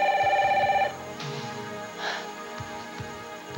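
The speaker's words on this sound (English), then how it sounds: "Shouldn't you answer the phone?" A telephone rings in a drama scene, a trilling electronic ring for about a second, then stops, leaving soft room noise and faint movement, with no talk over it.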